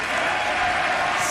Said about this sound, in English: The crowd erupts in applause.